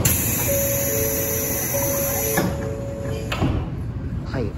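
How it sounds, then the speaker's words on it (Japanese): Inside a JNR 485 series train, a door chime sounds as a repeating two-tone electronic pattern, followed by the thump of sliding doors closing over a steady interior hum. "この列車の、ね、ドアチェーンはね、115系長野地区と、あと東海道新幹線、山陽新幹線のねドアチャイムになっております。"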